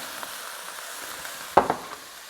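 Onions and mushrooms sizzle softly in a pan for pan-seared chicken breast, a steady faint hiss with one sharper clatter near the end, close by.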